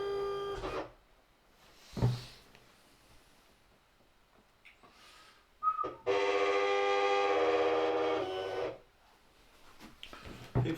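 A Silhouette Cameo vinyl cutting machine runs for about three seconds in a steady, fairly loud burst with a tonal whirr, preceded by brief clicks and shuffling handling noises.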